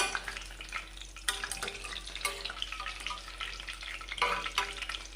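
Onion vada batter made with cabbage frying in hot oil, a soft continuous bubbling sizzle with intermittent louder crackles and stirring, fairly quiet and close, with no talking.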